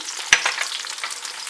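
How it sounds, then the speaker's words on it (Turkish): Onions frying in a pan with pepper paste just added, a bright crackling sizzle opened by one sharp clink of a spoon, brief and close with no voices. "Hemen şimdi soğanların üzerine 1 tatlı kaşığı biber salçası ekliyorum"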